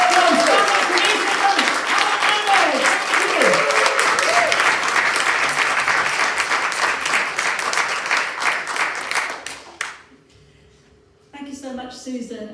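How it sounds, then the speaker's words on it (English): A rally crowd at the Edinburgh, Lothians and Borders May Day Rally gives loud sustained applause with cheering and whoops over a dense clapping roar, fading out before a speaker begins talking. "So please, can I hear a huge round of applause? Cheering, let's go!"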